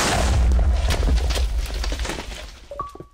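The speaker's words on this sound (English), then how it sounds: "They blew up the portal." A Minecraft explosion blows up a Nether portal: a loud, rumbling low boom dominates the opening second, then decays over the next two seconds, ending in a brief tonal game chime.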